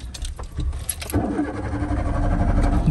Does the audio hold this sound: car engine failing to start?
yes